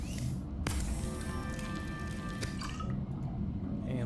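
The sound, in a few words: crafting water from a bladderfish in the video game Subnautica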